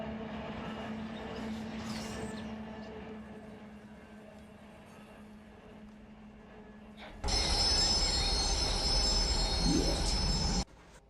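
A freight train with its locomotives pulls to a stop in the Run 8 rail simulator: a low rolling rumble gives way to a sudden loud, broad hiss and squeal of braking that holds steady for a few seconds, then cuts off.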